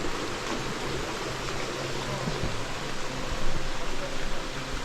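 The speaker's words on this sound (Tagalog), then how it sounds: "ingay ng tubig" A water stream rushes beneath a bridge, a steady broadband wash of flowing water that holds at an even level for the whole stretch, with no clear voices above it.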